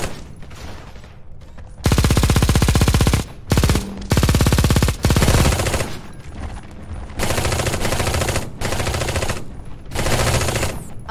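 Automatic gunfire in the video game Eximius: Seize the Frontline as a base comes under attack, long loud rapid-fire bursts broken by short gaps, with a brief quieter stretch between volleys.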